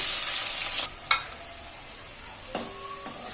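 Diced onion and capsicum fry lightly in hot oil with a steady hiss, broken by a few sharp scrapes and clatters of stirring.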